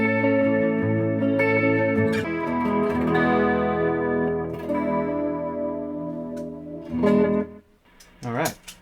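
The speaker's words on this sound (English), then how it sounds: "we can turn on some chorus on the clean." Harley Benton SC-Special electric guitar with a clean tone and chorus effect, sustained shimmering chords ringing out steadily and fading near the end.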